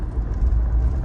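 Steady low rumble of wind and tire noise inside a moving 2025 Suzuki Jimny 4x4 automatic fitted with larger off-road tires, a continuous road drone throughout.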